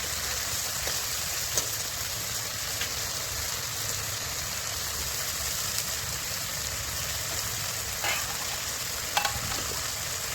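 Chicken sizzling and frying in a pan as it is stirred, a steady crackling hiss with occasional scraping clicks of the utensil, close and continuous with no talking.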